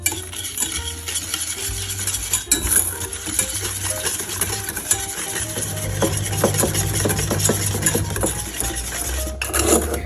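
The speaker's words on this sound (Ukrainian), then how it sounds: "Перемішуємо все вінчиком." Whisk stirring egg yolks with sugar and vanilla in a bowl, a continuous close scraping and clinking of metal wires against the bowl that runs without pause.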